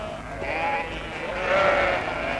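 Many sheep bleat together in a dense, continuous chorus, the flock calling loudly and close with overlapping voices swelling toward the end.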